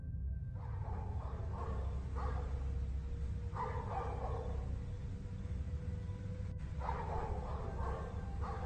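A labrador–boxer mix tied up in a yard barks in several bursts, faint and distant under a steady low outdoor rumble.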